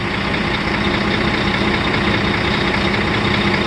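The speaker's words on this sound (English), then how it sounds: "I can't just shut off the truck right now because I need to build my air back up." Truck engine idling steadily to build air pressure back up in the brake tanks, a constant low diesel rumble running close and loud throughout without any speech.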